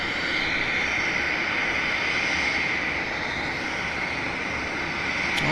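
A departing Toronto-bound airliner passes at Vancouver Airport, a steady, distant jet roar holding at an even, moderate level throughout with no voices over it.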